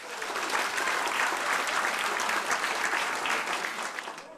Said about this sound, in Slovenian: En velik aplavz za našo Nušo.